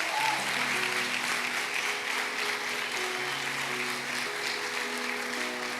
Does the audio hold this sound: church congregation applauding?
yes